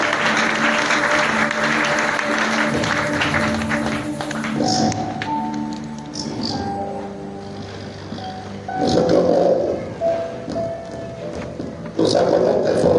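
A church congregation at a Sunday service applauds and cheers to welcome a guest, a loud mass of clapping and shouts mixed with music tones, rising and falling in waves with bursts of cheering.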